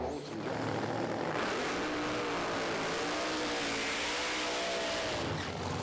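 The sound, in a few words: Pro Stock drag racing car launching at Santa Pod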